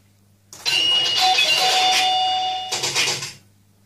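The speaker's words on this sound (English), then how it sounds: "we've got a few little dingy bells in here." Electronic bells chime on a pool-themed virtual pinball table, a bright sustained ringing that holds for about two seconds, then a shorter burst of ringing follows before it fades.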